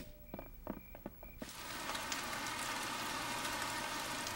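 Rain begins in a Peppa Pig cartoon: a few soft tonal notes give way to a dense, even patter of falling rain that continues steadily and fairly quietly with no voices.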